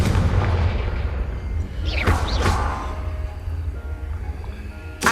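A Confringo blasting spell bursts in Hogwarts Legacy, a swooshing fiery whoosh around two seconds in over a steady low rumble of game ambience, followed by a booming thump, with a sharp crack right at the end.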